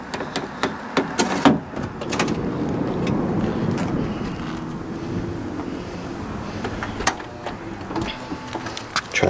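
A Honda Odyssey power sliding door opens automatically after a gentle tug on the handle, with a mechanical whir and rumble of the motor, several sharp clicks and knocks at the start and near the end, close by.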